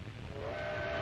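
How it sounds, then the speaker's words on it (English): An old 1930s train crosses desolate country, heard as a faint, steady rumble of rolling cars with a thin whistle-like tone rising over it, growing slightly louder across the short clip. "The train rattles across desolate country the Italians will have to fight across."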